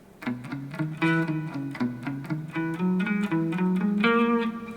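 A clean-toned electric guitar plays a quick run of evenly spaced single notes, steady rhythm, moderately quiet and close, with no talking.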